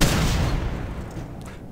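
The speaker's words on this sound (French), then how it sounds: "Des explosions." A heavy, booming grenade explosion in Half-Life 2: Lost Coast roars up close and loud, then its rumble slowly fades away.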